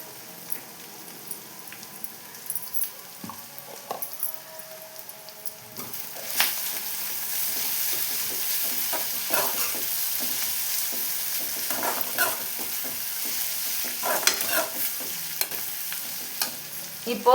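Onions sauté with turmeric in a pan for a simple aval kichadi, with a soft sizzle that grows louder partway through and frequent scraping and stirring clicks, and no talking.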